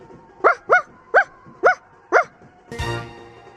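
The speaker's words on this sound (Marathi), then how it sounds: "कोणाचं भुंकणं आहे आठवतंय का या कुत्र्याचं नाव" A dog barks five times at a steady, evenly spaced rhythm, loud and close, followed by a brief burst of rougher noise.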